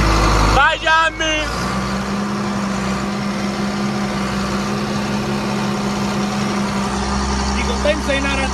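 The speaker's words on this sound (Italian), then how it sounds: "Senti solo il motore, devi sentire." A John Deere 55 series tractor engine runs with a steady, low, heavy hum throughout. Brief voices sound over it at the start and near the end.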